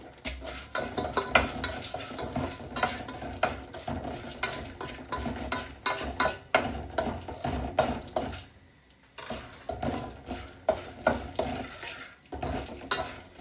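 Popcorn popping in a pot with oil and turmeric at home gives irregular sharp pops and rattles among metallic scraping as it is stirred, close and fairly loud, with a brief quiet gap midway.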